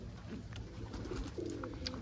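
Crested homer pigeons in a loft give soft, low cooing calls, a few brief murmuring coos repeating quietly over steady background hum, no voices.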